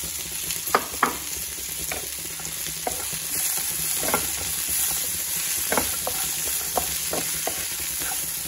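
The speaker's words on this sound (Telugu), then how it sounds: "బాగా కలుపుకొని ఇందులో ఇప్పుడు బఠానీ యాడ్ చేస్తాం." Green peas and spring onions fry in a pan with a strong, continuous sizzle, while a spatula stirs and scrapes in repeated knocks and clatters. No voices.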